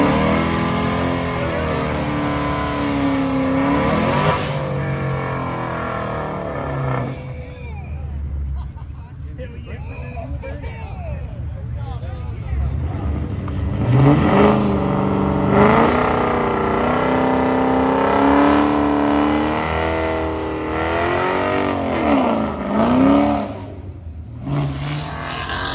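Dodge Challengers, among them a Scat Pack and a Hellcat, rev and rumble at an outdoor car meet, with engines rising and falling repeatedly under near constant nearby talking.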